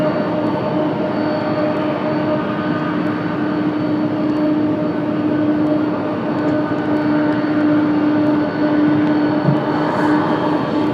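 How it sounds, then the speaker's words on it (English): Boeing 767 jet engines at Washington Dulles give a steady, loud, continuous roar with a sustained droning whine held throughout, unbroken and without talking. "Nice sounding 767."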